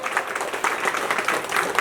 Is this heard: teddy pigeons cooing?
no